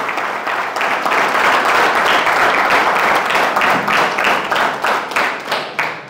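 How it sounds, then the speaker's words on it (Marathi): An audience at a leadership training program speech bursts into loud, dense applause that holds steady, then breaks into scattered rhythmic claps fading toward the end, with no talk over it. "जे मनपूर्वक टाळ्या वाजवत आहेत त्यांना मी मानाचा मुजरा करतो"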